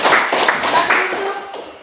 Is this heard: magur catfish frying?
no